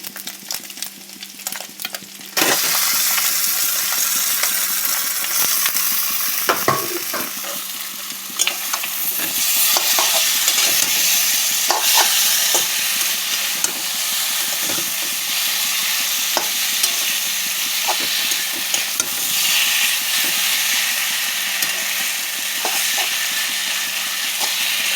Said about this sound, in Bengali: মাছের মাথা ভালো করে ভেঙে দিয়েছি, ভাজা হয়ে গেছে, এবার দিয়ে দেবো চচ্চড়িটা